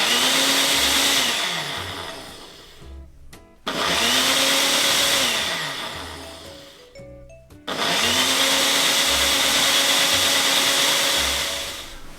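Blender whirring loudly up close as it purees ginger for tamarind juice, running in three long bursts with the motor pitch dropping and rising under load and short pauses between.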